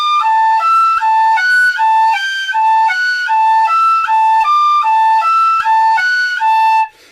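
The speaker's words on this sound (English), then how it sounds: "try and get that to move between the registers just by your airflow, by increasing and reducing the volume of air you're putting through the whistle" A tin whistle played alone and close, its notes jumping cleanly between the low and high registers as the breath pressure rises and falls, in a steady repeating pattern of sustained pure tones.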